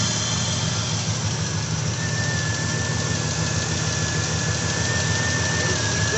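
A 1979 Chevrolet Caprice Classic coupe with a 350 V8, full headers and full exhaust idles loudly and evenly up close, its deep rumble and constant hiss holding steady throughout with no talking.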